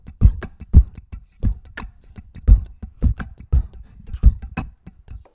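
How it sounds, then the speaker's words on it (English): Simple electronic beat built from two layers: a deep bass with a light kick drum and a small hi-hat, looping in a steady, even rhythm of punchy low thumps topped by crisp ticks, played alone and fairly loud. "We got a bass with a little kick, and then we got like a little hi-hat action."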